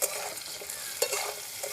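Potatoes frying in a pan in a village kitchen, a fairly quiet, even sizzle with a couple of faint stirring scrapes, heard alone without speech.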